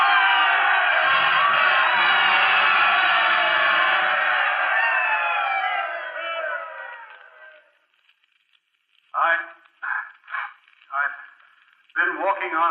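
A large stadium crowd cheers and roars in a sustained, dense wave as a radio-theatre sound effect, fading out over several seconds before a voice speaks in short bursts.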